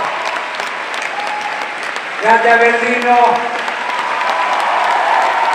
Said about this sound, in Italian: Grazie, un grande applauso